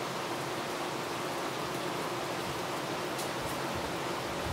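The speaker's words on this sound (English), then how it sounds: "it's just dropping a crap ton of rain" Heavy rain from a tropical depression in Florida pours steadily outside a garage, a dense, even wash of falling water with no breaks, fairly faint and distant.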